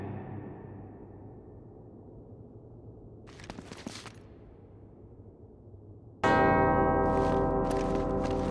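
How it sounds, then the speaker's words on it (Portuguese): Two church bells ringing together in harmony in the video game Uncharted: Drake's Fortune Remastered, bursting in loud and sustained near the end after several seconds of low, quiet ambience. "Dois sinos tocam em perfeita harmonia."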